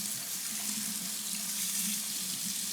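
Tap water runs steadily into a kitchen sink to wet wooden skewers for homemade hard candy, a constant close hiss with no breaks and no voices.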